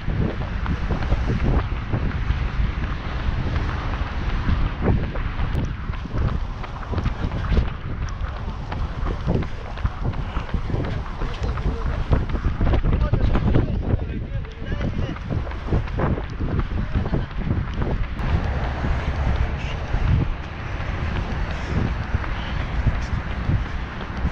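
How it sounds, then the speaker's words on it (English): Heavy wind buffeting a GoPro microphone during an outdoor run, loud continuous roaring and rumbling gusts that fill the whole clip. "It was super windy out there."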